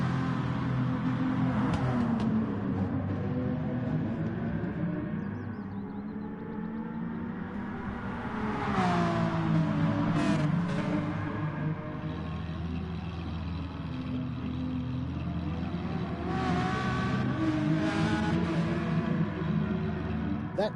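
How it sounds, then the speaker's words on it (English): A parked Lamborghini in a racing video game idles with a low, tractor-like engine drone that runs steadily throughout, with commentary talking over it. "That tractor-y sound, which makes sense coming from a Lamborghini"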